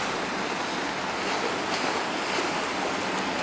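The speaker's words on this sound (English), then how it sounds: "Just a typical day of boat traffic running everywhere" Continuous broadband wash of water and outboard motor hum from boat traffic on Venice's Grand Canal near the Rialto Bridge, steady and fairly loud, with no distinct events standing out.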